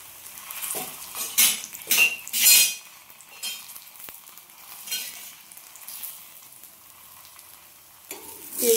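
Paratha frying in mustard oil in a home kitchen, with the spatula clattering and scraping against the pan in several bursts over a steady background hiss, no voices.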